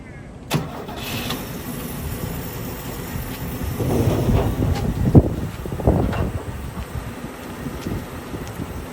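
An old car engine, unused for more than twenty years, cranks and then catches, moving into a rough running rumble that builds and surges near the microphone. A voice is heard faintly around it.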